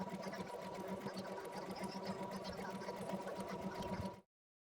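A sewing machine stitches faux leather for cosplay boots at a steady, rapid whirring pace, running close and continuous for about four seconds before stopping abruptly into silence.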